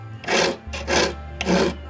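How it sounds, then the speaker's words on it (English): A hand file works a forged steel bottle opener held in a small vise, with three close, even rasping strokes at a steady rhythm over a low constant hum. "Today we're doing finishing work, like more filing is what it is."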